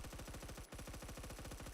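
Rapid, loud automatic fire from an M4 rifle in the video game Phantom Forces, a steady stream of evenly spaced shots with one brief break partway through.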